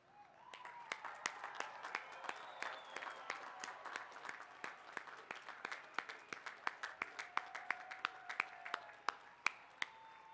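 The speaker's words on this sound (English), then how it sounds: "join me in recognizing the special people in your life by standing and giving them a well-deserved round of applause" A graduation audience at a Cal Poly Pomona College of Science commencement applauds while standing, honoring the special people in graduates' lives. Fairly faint, scattered clapping runs throughout, with distinct individual claps rising above a soft, distant crowd wash.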